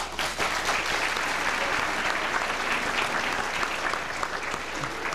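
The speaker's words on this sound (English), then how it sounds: "You can applaud." A large luncheon audience at a National Press Club event claps in a steady, dense round of applause that holds at full strength for the whole stretch, with no voices heard above it.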